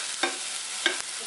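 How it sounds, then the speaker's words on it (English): Onions with curry leaves stir-fried in a pan over a low flame, with a steady soft sizzle and two brief scraping stirs close by. "You need to stir fry them till they are brown in color."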